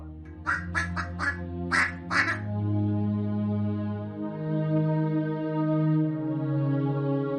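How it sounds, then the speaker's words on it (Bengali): A cartoon domestic pond duck quacks in a quick series of sharp, nasal quacks, then a longer drawn-out call, loud and close with no other sounds. "এটা তো মজিদ মিয়ার পুকুরের পাতি হাঁস"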